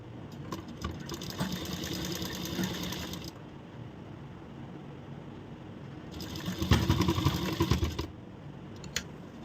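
A sewing machine stitches a corset blouse along its boning strip in two bursts of rapid, rattling needle strokes, the second louder and closer, with quiet handling between.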